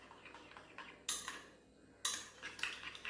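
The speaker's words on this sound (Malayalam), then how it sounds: "ശകലം പാല് ചേർത്ത് കൊടുക്കുന്നു. എന്നിട്ട് നന്നായിട്ട് ഇത് മിക്സ് ചെയ്യുക." A spoon mixes mashed banana with milk in a bowl, giving a few soft clinks and scrapes against the bowl, close but quiet.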